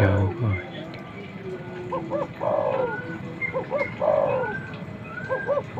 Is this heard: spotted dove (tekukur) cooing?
yes